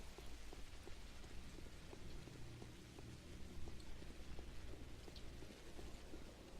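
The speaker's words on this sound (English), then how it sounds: "Good thing the visibility is down from the rain." Steady rain in the dark game world of Pathologic HD, a dense, even patter of drops on surfaces that holds at a moderate level for several seconds with no voices.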